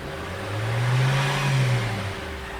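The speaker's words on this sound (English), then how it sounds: "holding the RPMs really seems to make it a lot better" A Nissan Juke with a hard-start, rich-running fault has its engine revved and held at steady high RPM, a sustained mid-pitched drone that rises, holds for about two seconds, then eases off, heard alone with no talk.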